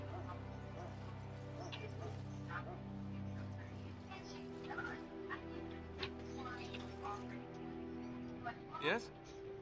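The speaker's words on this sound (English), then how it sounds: "The puppy's so cute." A puppy in Dragon Age: Origins gives small whimpers and yips amid a background hum and game dialogue, with voices speaking over much of it.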